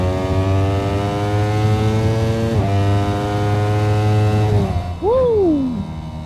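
A 2025 Ducati Panigale V4 S motorcycle engine idles with a deep steady thrum, then blips sharply, revving up and falling back once near the end.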